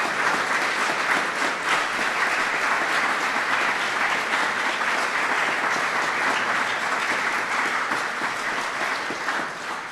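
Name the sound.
audience applause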